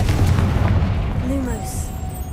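A Confringo blasting curse spell in Hogwarts Legacy goes off as a loud, booming explosion up close, rumbling and then tailing off into a fading ringing tone.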